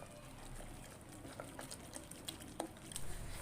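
Spoon stirring grated chocolate into milk in a pan, with faint soft clinks and liquid swishes over a low steady hiss, quiet and close.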